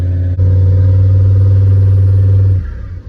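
The 2.0 engine of a Mark III Volkswagen Jetta, left sitting for over ten years, runs with a loud, close, steady hum after a brief clunk, then cuts off abruptly near the end.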